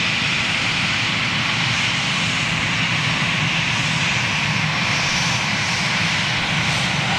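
Jet engines of an aircraft spool up at Gatwick, a constant broadband roar, fairly distant and steady, with no voices over it.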